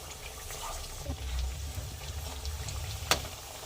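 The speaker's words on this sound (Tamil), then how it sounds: "பொறுமையாக ஸ்லோவாக ஃப்ரை பண்ணிவிடுங்க" Mochai vadai fry slowly in oil with a soft, steady bubbling hiss, fairly faint and close, with one brief sharp crackle near the end.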